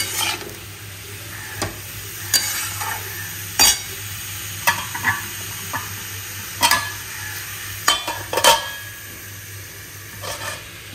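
Bottle gourd pieces stirred with salt in a pan, giving a low steady sizzle with a handful of separate spatula scrapes and knocks against the metal, close up and without any voices.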